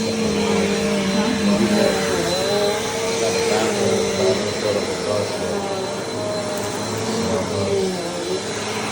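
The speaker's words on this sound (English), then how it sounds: "going to get all this residual dirt here, vacuuming it up" A vacuum cleaner sucking residual construction dirt out of carpet, a steady loud close roar with a shifting pitch as the nozzle moves, running continuously for the whole stretch.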